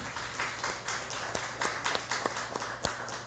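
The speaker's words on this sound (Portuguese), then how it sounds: "E uma salva de palmas para o Senhor Jesus." A church congregation claps for the Lord Jesus, a moderate round of applause with some sharper individual claps standing out in an uneven rhythm.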